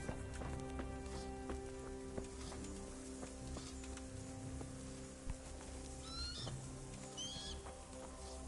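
A horse in the Kingdom Come: Deliverance video game neighs and whinnies quietly amid soft clip-clopping hooves and occasional bird chirps, all fairly faint and distant.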